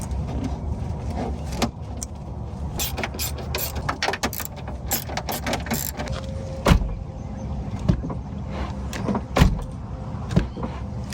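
Power window motor on a Porsche 986 Boxster whirring and straining in short bursts, with mechanical clicks and thunks as the window binds, close and fairly loud.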